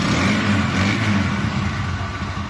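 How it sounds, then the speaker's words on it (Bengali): A second-hand TVS Apache RTR 160 motorcycle's engine runs steadily up close, a loud continuous drone with low rumbling harmonics and a slight rise and fall in pitch, with no talking. "এখন দেখো হচ্ছে বাইকটির সাউন্ড কোয়ালিটি"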